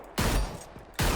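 Two sharp bursts of gunfire from a shooter game, Hyper Scape, crack close and loud, each blast ringing with a punchy tail before the next.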